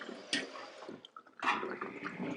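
Cooked noodles draining in a colander after a cold water rinse, soft wet drips, trickles and squishy splashes in irregular bursts, faint and close with quiet gaps between.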